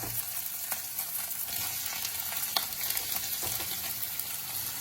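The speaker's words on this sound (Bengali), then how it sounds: "এবার ফোড়নটা একটুখানি ভেজে নিয়ে আমি এর মধ্যে দিয়ে দিচ্ছি এরকম সরু সরু করে লাউ কেটে রেখেছি," Shredded bottle gourd dropped into hot oil with tempering spices for lau shukto, giving a steady close sizzle and frying hiss throughout, with faint scattered clinks and no talking.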